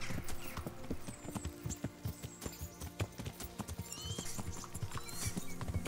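Rhythmic clip-clop hoofbeats of a horse being ridden in Kingdom Come Deliverance, steady and close over a faint outdoor ambience, with a brief whinny.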